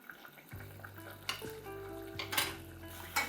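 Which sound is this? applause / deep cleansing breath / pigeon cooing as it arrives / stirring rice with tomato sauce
stirring rice with tomato sauce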